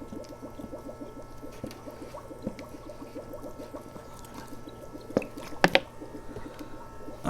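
Water poured onto the soil around a newly planted young olive tree, a close, steady trickling and dripping with a few sharper splashes near the end, with no talking.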